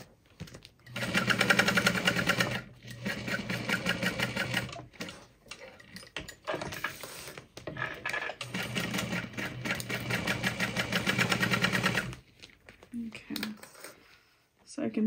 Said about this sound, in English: So we're gonna baste along the side edge, making sure this seam is nicely pressed.